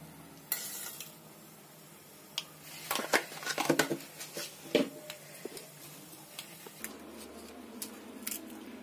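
Tempering seeds dropped into hot oil for a tomato and peanut chutney crackle and sizzle, with scattered pops and stirring clicks over a steady low fry, close up with no talk.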